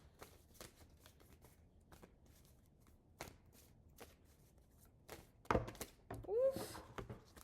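Tarot cards shuffled by hand and scattering, a run of soft riffling flicks and taps, then a louder burst of cards spilling and sliding across a surface near the end, close and fairly quiet.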